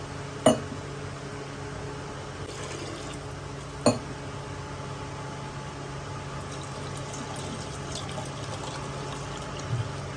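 Water poured steadily into a cooking pot for Mumbai-style dal khichdi, three vessels' worth, a continuous close wash with a couple of sharp clinks near the start.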